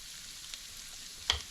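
Food frying in a pan for curried oxtail with dahl, a soft steady sizzle running throughout, with a brief louder clatter near the end.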